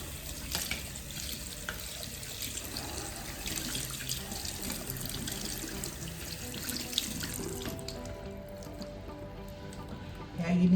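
Tap water runs steadily into a sink while rinsing brushes, splashing up close with changing flow, then cuts off near the end as a voice begins to speak.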